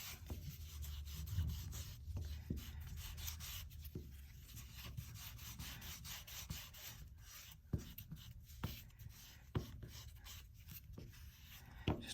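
Fine 3000-grit paper rubbed along the edges of Horween Dublin leather for a pen sleeve, a soft continuous scratchy rasp in short strokes with a few sharper scuffs, quiet and close with no talking.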